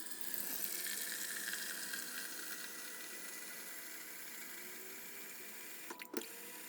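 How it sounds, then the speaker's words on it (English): A soft drink dispenser pours in a steady, fizzy stream close by, continuous throughout and ending with a brief clatter. "continue to pour until the stream turns from clear to dark"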